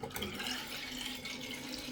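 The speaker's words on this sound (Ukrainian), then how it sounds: "Ось ми дожали поплавок, вода набирається." Water refills a toilet cistern after the float valve is pressed down, a steady close splashing and gurgling rush of running water that holds constant throughout, with no talking.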